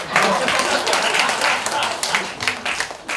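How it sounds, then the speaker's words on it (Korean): Audience applause and clapping at a live SBS comedy show taping, a dense steady wash of many hands lasting throughout, fairly loud and close with no voice over it. "박수 쳐주세요."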